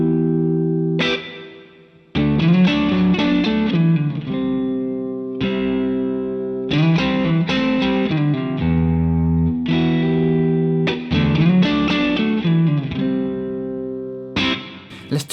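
Electric guitar through the plate reverb setting of an MXR M300 reverb pedal, playing chords and melodic phrases in several bursts, each with a smooth reverb tail, loud and close with no voices.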